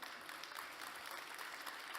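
A crowd claps steadily for a couple of seconds, a soft, even patter of applause heard from some distance.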